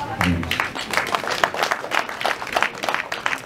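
A wedding group claps in quick, uneven bursts for a few seconds, with a brief voice heard at the very start.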